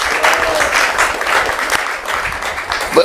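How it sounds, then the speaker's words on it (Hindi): An audience claps to welcome the actors of a devotional drama troupe, a dense steady burst of applause that holds evenly for a few seconds, with only faint voices mixed in. "सब लोग तालियां बजा के इनका स्वागत करें।"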